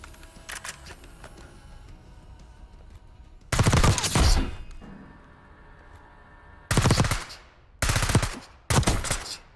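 An AS VAL rifle firing in Black Ops 6: several loud, rapid automatic bursts, each a second or less, separated by quieter gaps filled with ringing and game ambience, with faint distant shots early on.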